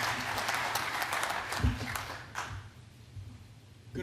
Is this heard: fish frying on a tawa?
no